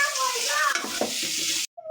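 Fried potatoes sizzle in oil in a pan, a close, bright, hissing crackle that holds steady and then cuts off abruptly near the end.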